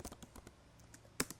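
Keystrokes on a computer keyboard while entering a router configuration in network simulation software: a few scattered soft clicks, then a sharper burst of two quick taps near the end, close and fairly quiet.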